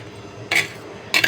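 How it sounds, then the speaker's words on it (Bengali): Fish pieces being mixed with turmeric, chili powder and salt in a bowl give two short scraping, clinking bursts, close and fairly loud, with quiet between them. "হলুদ গুঁড়ো মরিচ গুঁড়ো লবণ দিয়ে ভালোভাবে মিশিয়ে নিচ্ছি।"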